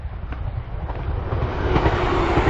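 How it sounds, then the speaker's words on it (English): A train rolls past near a hiking trail on the Cumbria Way, its broad rumble and rail clatter building steadily louder toward the end, with no voices. "There goes my train."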